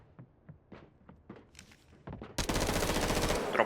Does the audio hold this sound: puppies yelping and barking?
no